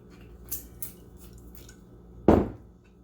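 Oil being stirred into pesto in a bowl, with a few light utensil clinks against the bowl and one louder scraping clatter near the end, close by and with no talking.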